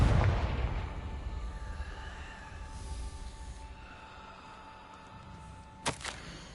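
A Confringo blasting spell cast in Hogwarts Legacy erupts in a loud, booming burst at the start, its rumble decaying over several seconds, followed late by a sharp crack and short echo.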